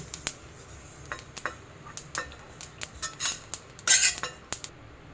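A metal spoon scrapes and clinks against a pan as roasted flattened rice (poha) is scooped out for ladoo. The sharp, irregular taps and clatters sound close by, with no talking.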